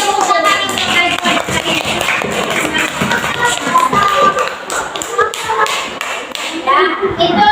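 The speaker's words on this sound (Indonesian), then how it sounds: "beri tepuk tangan untuk Ajwa" Classroom applause for a student, a dense clatter of many small hands clapping continuously and fairly loudly for several seconds, with children's voices mixed in.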